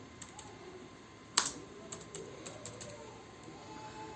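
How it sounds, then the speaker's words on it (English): Code is typed on a computer keyboard, with soft scattered key clicks and one sharper tap, faint and close in a quiet room. "while I am typing the codes in Visual Studio"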